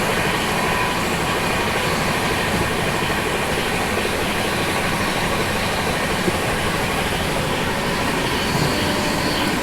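Ahmedabad Gorakhpur Express racing along the rails at about 130, a loud unbroken roar of wheels and carriage rumble heard from on board, steady throughout with no voices.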